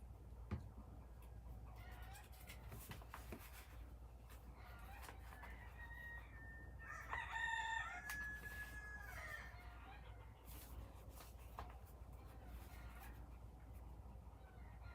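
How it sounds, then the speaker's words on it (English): Backyard chickens at dusk as they head up into the trees to roost, with a rooster crowing mid-clip over soft clucking, moderately distant against a steady low background hum. "Chickens are getting ready to"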